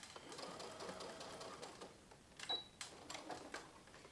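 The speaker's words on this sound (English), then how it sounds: "you can go ahead and sew that corner down like that if you're worried about that little corner of ribbon" A sewing machine stitching down a ribbon corner at a separating zipper, running in a few short bursts with rhythmic needle clatter and pauses between, close and fairly quiet.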